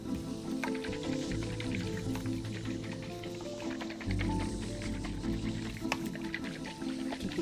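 A coconut is shaken by hand so the water inside sloshes, giving soft liquid swishing and gurgles under a faint background hum, close and quiet.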